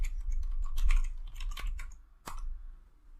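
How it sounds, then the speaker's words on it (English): Fingers tap commands on a computer keyboard in quick, uneven bursts of close, crisp key clicks, with a short pause before a final sharp keystroke; quiet and alone, with no voices. "So we type some commands here."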